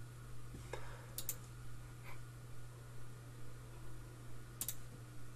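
A few faint, crisp mouse clicks, single and in a quick pair, sound near the start and again near the end while right-clicking in embroidery software, over a low steady electrical hum.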